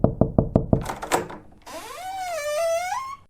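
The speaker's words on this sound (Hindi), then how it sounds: "लेकिन अगली रात दरवाजे पर फिर से किसी ने दस्तक दी।" Five sharp knocks on a door rap out in a quick even rhythm, close and loud, followed by a rising and falling electronic whoosh or tonal sweep.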